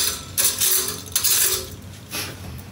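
Cheap camping spoons clatter together in three bright metallic bursts of jangling cutlery, close and fairly loud, with short pauses between them.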